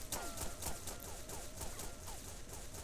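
Shotgun fire in the video game XSHOT: rapid repeated blasts, around ten sharp reports in quick rhythmic succession with brief metallic tails, moderately loud and with no talk.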